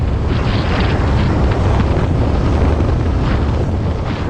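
Cold, blustery wind roars steadily over a boat ahead of a Florida storm, a loud, dense rush with gusty swells throughout and no voices.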